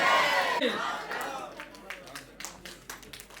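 Audience clapping at a blanket distribution ceremony, with a burst of crowd voices up front that fades into scattered, uneven claps and a few sharper hand strikes toward the end, fairly faint overall.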